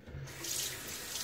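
Tap water runs steadily into a sink during a wet shave as fingertips are rinsed, a continuous close hiss of flowing water with no talk.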